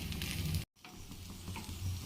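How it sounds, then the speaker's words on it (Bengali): A mixture of fish roe, rice and spices fries in a pan, giving a soft, steady sizzle with a brief break, faint and close for about two seconds. "খুব ভালো করে মিশিয়ে নিয়ে এটা একটু ভেজে নিয়েছি"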